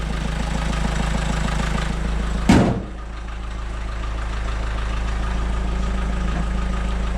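A Renault Twingo 2 with a 1.5 dCi diesel engine idles steadily after starting, a loud, even rumble broken by one brief sharp burst partway through.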